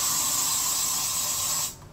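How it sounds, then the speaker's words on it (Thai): Hair spray hisses from an aerosol can onto hair in one continuous, loud, close burst that stops abruptly near the end. "แล้วคุณก็สเปรย์ไล่ตามมือขึ้นไปเลยนะคะแล้วก็ไม่จำเป็นต้องกดจนสุดนะสเปรย์กดแค่ประมาณเซต1 2 3"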